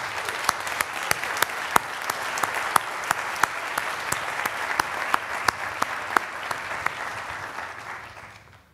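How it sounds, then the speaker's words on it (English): Applause for graduates at a Master of Engineering hooding ceremony, a hall full of steady clapping with sharper individual claps standing out near by, fading away at the end. "another round of applause are in order for all of our graduates."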